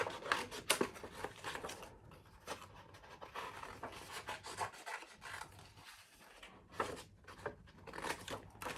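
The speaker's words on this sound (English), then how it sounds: "I'm just going to cut these like that" Scissors snip through small pieces of paper for a Monet water lilies craft, a steady series of close, quiet cuts with soft rustling and brief pauses between strokes.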